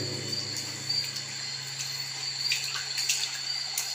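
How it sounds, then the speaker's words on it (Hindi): Faint, steady trickle of water from a canal passing overhead through a tunnel, a continuous soft wash with insect chirps above it. "और बीच बीच में से पानी मेरे ऊपर से एक नहर गुजरती हुई"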